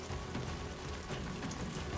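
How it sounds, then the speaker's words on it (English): Timefall rain in the video game Death Stranding 2 falls as a steady, quiet, even hiss of rain on surfaces, with no voices. "this is probably that timefall rain that causes shit to age if it hits it"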